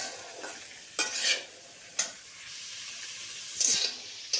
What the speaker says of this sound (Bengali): কাঁচা ছোলা যে ভিজিয়ে ভাজছিলাম